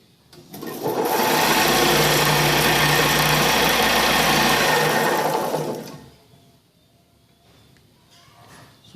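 Ceiling fan coil winding machine running with a steady, loud motor whir for about five seconds, then winding down to a stop and leaving a quiet hum.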